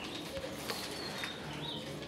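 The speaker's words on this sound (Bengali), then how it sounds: "ফার্স্ট ক্লাস কোয়ালিটি বোম্বাই কবুতর, ইয়েলো বোম্বাই" Yellow Bombay pigeons coo softly amid a steady background of faint chirps and ambient noise, with low, muffled calls rising now and then at moderate distance.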